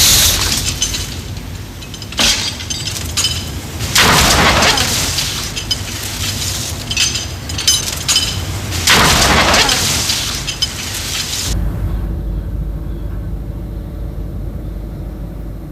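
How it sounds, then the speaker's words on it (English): A fully loaded life raft is hit in an impact test, producing loud booming crashes and surging water spray in repeated bursts, then a quieter rumbling stretch at the end. "here's how the raft responds to an impact when fully loaded."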